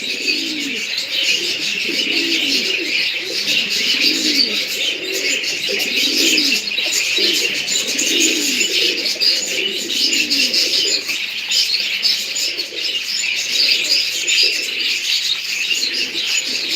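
Baska pigeons in a loft coo in low, repeated rolling phrases while feeding their chicks. Soft chirps and a steady airy background run continuously throughout.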